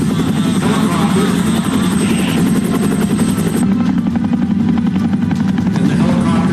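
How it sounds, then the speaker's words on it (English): Helicopter rotors beat steadily and loudly throughout, a continuous thumping drone of military helicopters launched from a naval ship, with no voices over it. "The ship then launches helicopters,"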